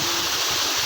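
Steady, broadband rush of water from the Granjangan waterfall, a constant hiss filling the short moment with no voices.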